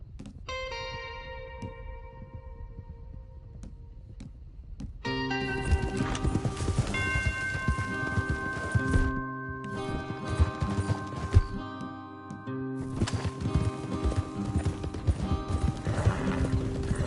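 Horses in Red Dead Redemption 2 with steady hoof clip-clop, loud whinnies and game sound effects over a droning musical score, the hoofbeats and music swelling after a quieter opening.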